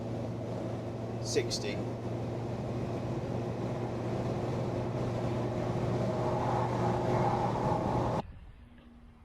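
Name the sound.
van driving with big bore stainless exhaust, window down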